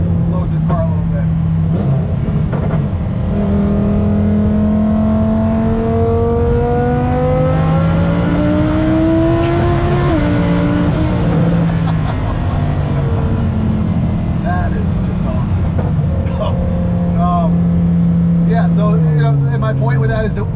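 Twin-turbo Lamborghini Huracan road race car with over 1,000 horsepower, its engine revving under load in a long rising sweep that climbs steadily then drops back, loud and close, with a voice talking over it.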